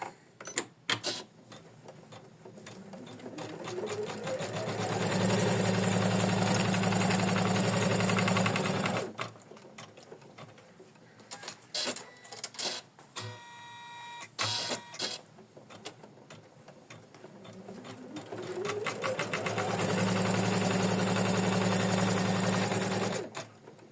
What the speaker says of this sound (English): Now we need to stitch the placement lines.